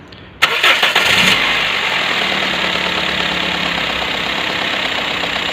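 A Toyota Etios engine with a misfire cranks on the starter and catches, then settles into a steady, loud idle right up close, with a slightly uneven mid-pitched hum and no talking.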